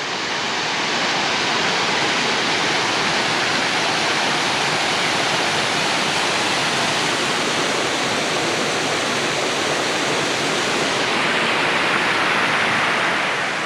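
Cataract Falls in Mt. Tamalpais State Park pours with a steady, full roar of rushing water heard up close, unbroken and without voices.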